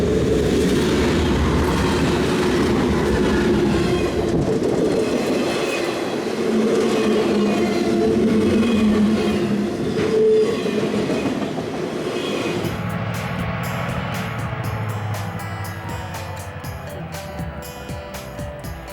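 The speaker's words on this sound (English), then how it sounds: "we've got this vehicle train coming around the corner" A freight train of autos led by a war bonnet locomotive rolls past on a curve, a loud, continuous rumble of rolling cars with faint wheel squeal, later shifting in tone with music over it.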